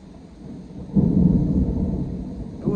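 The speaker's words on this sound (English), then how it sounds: "So, that's the storm today." A low rumble of thunder from a passing storm swells after about a second and rolls on steadily, fairly loud and broad, with no voices.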